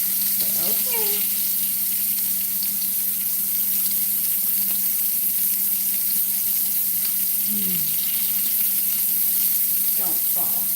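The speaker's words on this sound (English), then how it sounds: "just searing this side" A rib roast searing in a pan gives a loud, constant sizzle throughout, with a low steady hum beneath and a few brief voice fragments.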